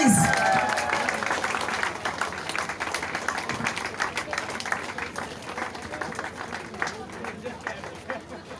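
An audience at a Rotary Rain Run prize ceremony claps and cheers in a dense, continuous burst that starts loud and slowly fades, with a voice briefly heard at the start.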